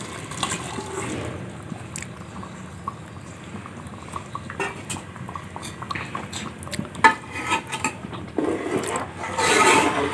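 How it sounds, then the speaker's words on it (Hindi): Boiled water poured from a glass into a pan of fish curry masala, a bubbling, sizzling liquid wash with light clinks, growing louder toward the end. "अब हम इसमें पानी शामिल करेंगे।"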